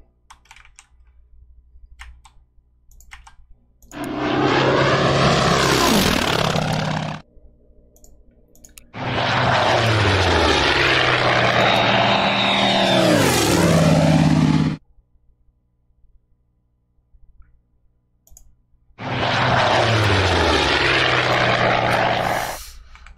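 Propeller aircraft engines in the Pacific campaign of the strategy game Order of Battle drone in three long bursts, each swelling and sweeping in pitch as planes pass, with near-silent gaps between them.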